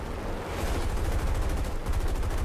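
American .50 caliber machine guns fire in the War Thunder video game, a dense, loud, continuous burst of rapid rattling shots with a brief gap near the start, with no talk.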